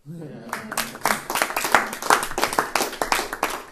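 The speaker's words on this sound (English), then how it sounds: "Do I hear an applause for that?" An audience claps at an interview with Rainbow Tai Chi Master Choy, brisk, dense hand-clapping that starts abruptly and carries on steadily, with voices mixed in.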